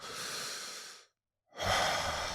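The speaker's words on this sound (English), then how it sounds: "really deep breathing in through the mouth" A person takes slow, deep breaths through the mouth. Two long breathy sounds are heard up close, separated by a brief pause.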